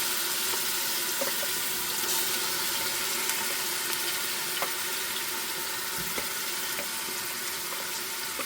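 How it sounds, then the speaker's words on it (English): Chopped onions sizzling in half a stick of melted butter in a soup pot, a steady, dense, hissing fry that continues evenly throughout with faint crackles. "scrape these onions on in here into our butter"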